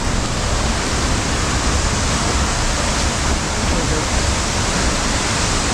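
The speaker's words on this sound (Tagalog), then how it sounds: "O yan na yung waterfalls" Steady, dense roar of a waterfall on Biliran Island, Philippines, during a tropical storm, filling the whole clip, broadband and constant with no pauses, close and loud.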